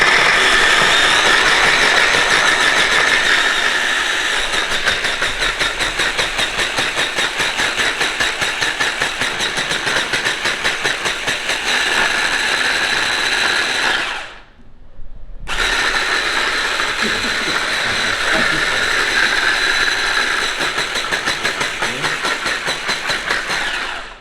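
A blender loudly churns Caribbean green herb seasoning with oil, a harsh, steady whirring roar that cuts out for about a second, then spins back up and keeps going.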